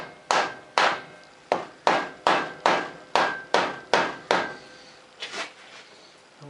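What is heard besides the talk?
rubber mallet whacking a bolted part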